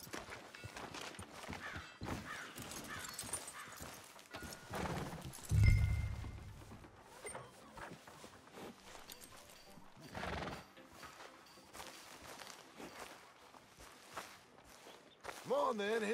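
Horse hooves clip-clop at a walk in Red Dead Redemption 2, a steady close rhythm with a snort or whinny partway through, under intermittent character dialogue.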